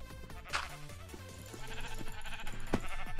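A sheep bleats twice in a Minecraft game running the Better Than Wolves modpack, each call short and wavering, close by and loud over a steady bed of game music and ambient sound.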